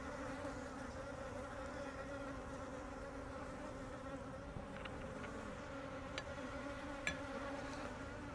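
Honeybees buzz around an open hive frame in a steady, low, continuous drone, with a few faint ticks and knocks scattered over it and no voices.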